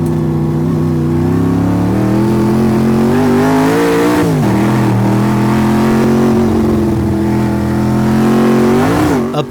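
Hill climb car's engine revving loudly and continuously on a dirt road, held at a steady pitch with brief dips and surges in revs as the throttle is feathered to control the rear end.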